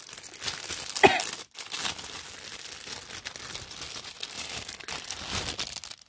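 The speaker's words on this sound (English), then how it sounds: "hopefully the plastic rustling doesn't bother you guys too much" Plastic packaging rustles and crinkles continuously at close range, with a sharp crackle near the start and uneven bursts of crumpling throughout.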